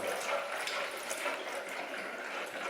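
Water poured into a kettle to thin down wood stain, a steady broadband splashing rush that holds at an even level from start to finish, close by with no talk over it.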